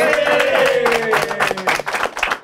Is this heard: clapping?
yes